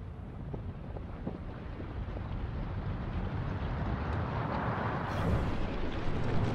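The sun explodes in the space game Outer Wilds, a deep rumbling roar that builds steadily and swells louder toward the end, with a rushing wind-like wash over the whole span.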